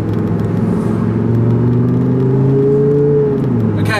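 Lamborghini fitted with an Armytrix exhaust, valves closed, revving steadily: a loud, continuous deep drone with rising and falling engine tones, near and dominant with no talk.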